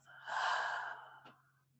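A single slow, audible breath out through the mouth during a guided relaxation exercise, swelling and then fading over about a second, close and soft, with a faint click afterward.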